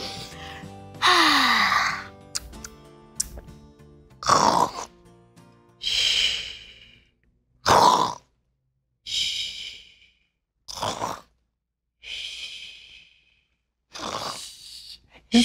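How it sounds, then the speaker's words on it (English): A cartoon character sleeping under a night sky gives a series of about ten drawn-out snores and breathy snorts, each separated by short quiet pauses, close and clear. "It sounds like she's snoring."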